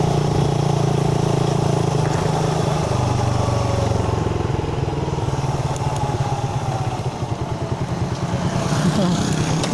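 A Yamaha Sniper 150 motorcycle's engine revs hard and loud up close, with a steady, buzzing drone and rapid firing pulses that hold high throughout, as at a drag-race test.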